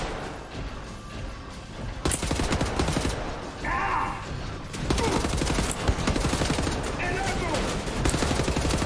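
Gunfire from shooting enemies in Wolfenstein: The New Order, rapid automatic bursts and heavy impacts, loud and dense, with short pauses between volleys.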